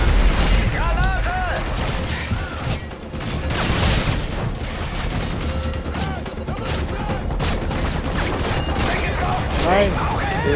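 Call of Duty: Modern Warfare 3 combat with a grenade blast amid constant gunfire and game effects, loud and dense throughout, with voices talking over the action.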